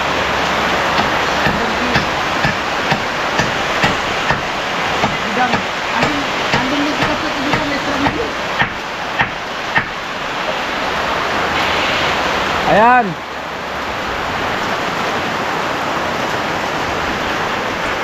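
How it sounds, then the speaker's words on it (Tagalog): Heavy rain pours down during a typhoon, a dense, constant roaring hiss close by, with voices talking and calling over it throughout. "Sagana sa ulan dito sa bato."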